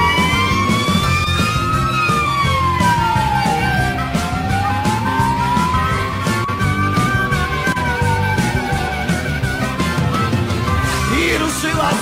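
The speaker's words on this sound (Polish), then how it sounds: "I ruszyła syrena, wyje od 100 lat." A fire engine siren wails loudly and continuously, its pitch sweeping slowly up and down in long cycles over a dense backdrop of traffic and engine noise.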